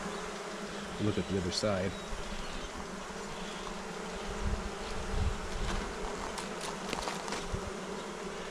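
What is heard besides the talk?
bees buzzing around a beehive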